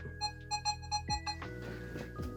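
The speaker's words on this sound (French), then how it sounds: "le détecteur est multiton avec 3 tonalités différentes" Nokta Score metal detector giving distinct electronic tones as it sweeps over an iron nail, a small piece of aluminium and a 10-centime coin: a run of short repeated beeps, then shifting pitched tones, close and clear with no talk.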